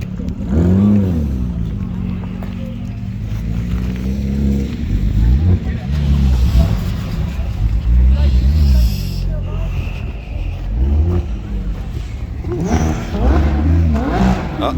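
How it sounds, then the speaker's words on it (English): A Porsche GT3 sports car drives past with its engine revving, the roar rising and falling loudly and close by, while people talk over it. "there goes that GT3"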